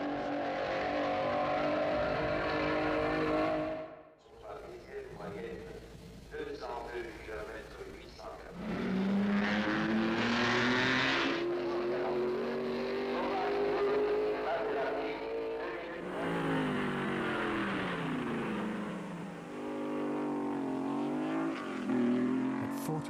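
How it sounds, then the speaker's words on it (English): A Maserati 250F race car driven by Fangio slides through a four-wheel drift at speed, its engine note rising and falling loudly as it passes, with a narrator talking over much of it. "Fangio controls his Maserati 250F in a magnificent four-wheel drift"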